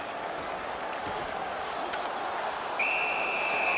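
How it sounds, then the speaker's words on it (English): Referee whistle in the NHL 15 hockey video game, one sharp sustained blast arriving late over a steady arena crowd murmur, clear and loud. "Puck covered, whistle blown."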